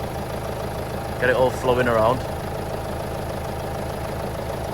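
A Vauxhall Vivaro 2.5 CDTI diesel engine idles steadily after an oil service, a continuous close rumble running throughout while someone speaks briefly over it.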